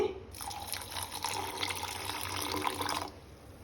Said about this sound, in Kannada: ಈಗ ವಾಟರ್ ಆ್ಯಡ್ ಮಾಡೋಣ ಸ್ವಲ್ಪ ನೀರು ಹಾಕೊಳ್ತೇನೆ